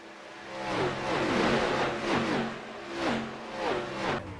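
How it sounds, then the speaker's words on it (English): Race car engine in the iRacing sim, a UMP Modified at Limaland, revving steadily with rising and falling pitch sweeps, loud and close throughout with no talk. "Either Aiden or the 6 of Joseph behind me was just revving their engine the whole time"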